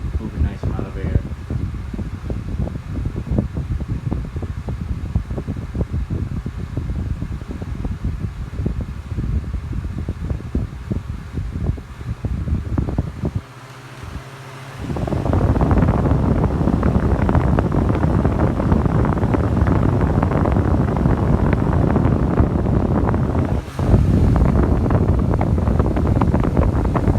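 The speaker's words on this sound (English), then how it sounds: "for how small they are, they actually do move a nice amount of air" A small Honeywell desk fan runs with a steady whooshing airflow, near and continuous, with a brief dip midway before it returns louder.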